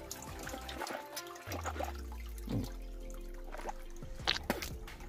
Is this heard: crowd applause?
no